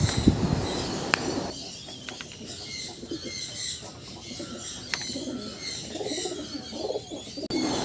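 Low pigeon coos repeat through a busy, noisy backdrop, with occasional sharp clicks and a brief flutter of wings nearby.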